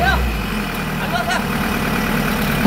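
Tempo engine idling on a caved-in road at Curchorem, a steady low rumble running continuously and loud throughout, with people talking nearby over it.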